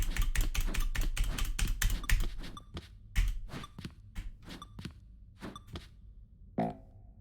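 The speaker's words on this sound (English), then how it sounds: "I'm sorry you can hear my keyboard so loud." Fast, loud computer keyboard typing clatters close to the mic in dense bursts, then slows into scattered individual keystrokes. A brief low vocal sound comes near the end.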